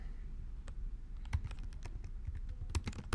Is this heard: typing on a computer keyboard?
yes